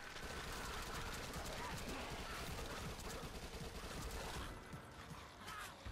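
SMG gunfire in the Dead Nation video game, dense rapid bursts of shots crackling continuously over a busy, chaotic game soundscape, tapering slightly near the end.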